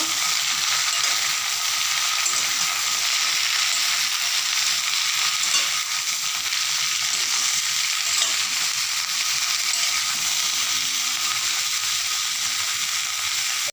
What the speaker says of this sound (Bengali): সবজির মধ্যে দিয়ে দেবো স্বাদ মতো লবণ লবণ দিয়েও সবজিটাকে ভালো করে নেড়ে করে মিশিয়ে নেব